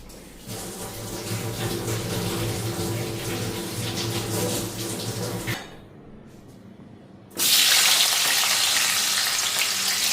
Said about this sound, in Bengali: এইখানে আলুটা দিয়ে দিলাম আলুটা হালকা ফ্রাই করে নেব